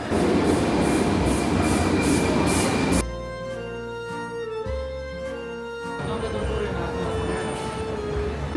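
A Milan metro subway train rides along with a loud rumbling roar. Mid-ride it shifts to a quieter stretch with a tonal hum and squealing wheels, then the roar of motion returns.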